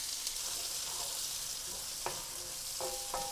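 Onion tipped into hot oil already sizzling with cumin seeds, cooking for a chickpea, spinach and yogurt curry: a steady close frying hiss with a few sharp clinks and stirring scrapes, and no voices.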